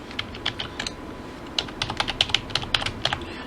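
Computer keyboard typing of an administrator login while setting up a website template: scattered key clicks at first, then a quicker run of bright, clear keystrokes over low background noise, with no talking.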